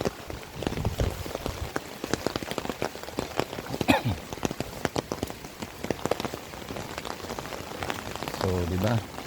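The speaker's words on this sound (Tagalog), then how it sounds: "Ay, sana wag naman lumakas ang ulan." Steady rain patters close by on surfaces during typhoon Uwan while someone walks outside a subdivision toward the market. The hiss is continuous, with a voice speaking over it.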